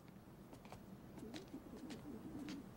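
Pigeons coo softly at a pigeon coop, a faint low burbling that repeats over a steady background hum.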